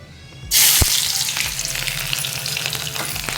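Chopped onions hit hot oil seasoned with asafoetida in a pan for an okra dish: a sudden loud sizzle bursts in after half a second, then settles into steady, close crackling frying with small stirring knocks.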